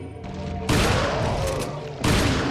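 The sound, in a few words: rifle shots in video game Resident Evil 4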